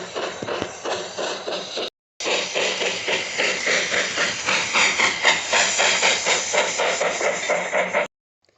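A steam locomotive on a model railway hisses steam in a loud, continuous rush, pulsing with a chuffing rhythm as it pulls away, broken by one brief dropout.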